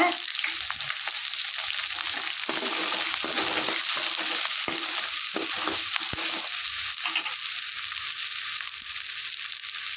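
Chopped onion and green chillies sauté with chana dal in a hot pan, giving a steady, loud oil sizzle with light scraping stirs throughout and no voices.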